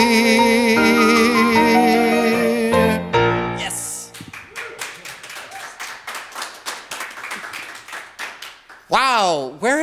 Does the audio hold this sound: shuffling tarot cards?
no